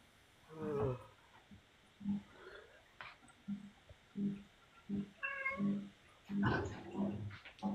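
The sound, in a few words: cat meowing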